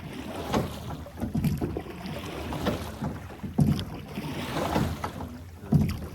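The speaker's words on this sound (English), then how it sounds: "we're back in the boat. Heading back over to the U.S." A small boat crossing the river from Boquillas del Carmen, Mexico, back to the U.S. at Big Bend National Park: choppy splashing and hull knocks over steady wind buffeting the microphone, with no one talking.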